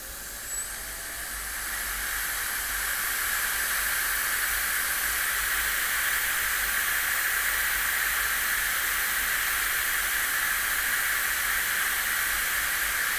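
JisuLife Ultra 1 portable fan running at its top level 100, a steady close broadband whoosh of rushing air that holds constant throughout with no voices.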